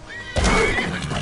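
A horse whinnies loudly and close in the video game Skyrim, one sharp rising neigh that breaks in suddenly and then trails off.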